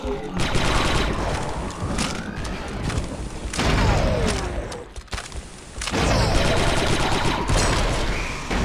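Several heavy blasts and bursts of gunfire erupt in the Star Wars Republic Commando game, loud booming detonations separated by brief lulls, with crashing debris and rapid shots in between.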